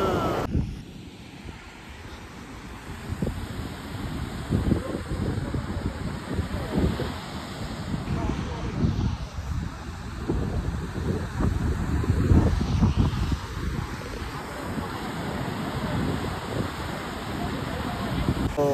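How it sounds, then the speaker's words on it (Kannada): Strong wind sweeps across a beach near Honnavar, buffeting the microphone with a loud, continuous low roar that rises and falls for the whole stretch. "ಇಲ್ಲಿ ನೋಡ್ಬೋದು ಎಷ್ಟು ಗಾಳಿ, ಏನ್ ಕತೆ."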